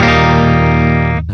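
Electric guitar with a humbucker pickup played through a Neural DSP Gojira amp plugin set to crunch distortion: one loud, sustained, buzzing chord that rings evenly, then cuts off abruptly before a brief new note.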